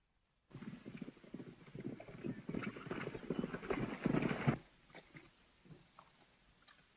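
Hooves of a white horse clip-clopping on the approach, a quick irregular run of muffled thuds that grows louder, then stops abruptly and leaves faint rustling.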